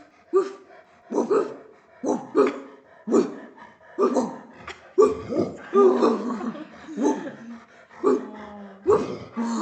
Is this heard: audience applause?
no